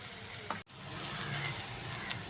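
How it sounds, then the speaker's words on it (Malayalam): Grated coconut roasting in coconut oil in a pan for a Kerala raw breadfruit curry gives a faint, steady sizzle with one brief dropout near the start and no voices. "അതിലേക്ക് നമുക്ക് ഇത്തിരി വെളിച്ചെണ്ണയും കൂടെ ചേർത്ത് കൊടുത്ത് നല്ല പോലെ വറുത്തെടുക്കാം"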